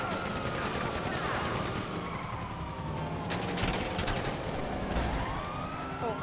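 Rapid bursts of AP pistol gunfire crackle through a GTA 5 firefight, sharing the busy mix with wailing police sirens and other street noise.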